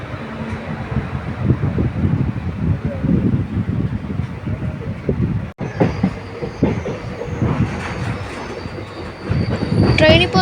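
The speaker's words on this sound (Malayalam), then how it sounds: "അങ്കമാലിന്ന് വണ്ടി എടുത്തു." The Guruvayoor Express pulls out of Angamaly station with a steady rumble and clatter of wheels, a loud continuous rolling noise with a brief dropout midway, while a person talks over it.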